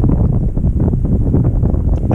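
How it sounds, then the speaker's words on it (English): Strong gusting wind buffets the microphone with a loud, continuous rumbling roar and no voices. "Getting a little windy and wet."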